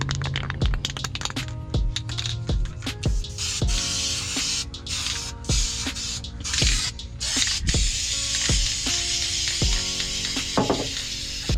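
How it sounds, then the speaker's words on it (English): Aerosol rust-protection spray applied inside a car trunk during an interior restoration, heard as a series of short, close hissing bursts with brief pauses and small clicks between them. "I just need it not to rust, so that's why I'm spraying it."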